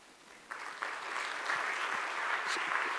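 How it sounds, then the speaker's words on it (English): An audience at a keynote address applauds, the clapping starting thin and then swelling within the first second into a sustained, full round that holds steady to the end, with no speech over it. "I'm going to give you a round of applause, I reckon"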